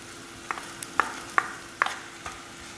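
Grated coconut fries in a pan for chakkakkuru pradaman, a jackfruit-seed payasam. Soft steady sizzling runs underneath while a spoon scrapes and stirs in a few sharp, close taps about half a second apart.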